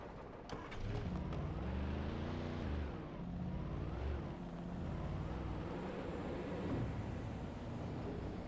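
A car in the game Alan Wake drives steadily, its engine droning and rising and falling in pitch as it speeds along, a continuous close rumble with no talk.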